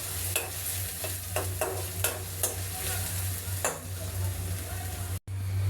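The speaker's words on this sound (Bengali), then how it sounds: "এখন আমরা নাড়াচাড়া দিয়ে পেঁয়াজটাকে হালকা বাদামি কালার করে নিব" Chopped onions frying in a pan for rui fish curry while being stirred: a steady, close sizzle with rhythmic scraping strokes of the spoon, then a brief cut-out near the end.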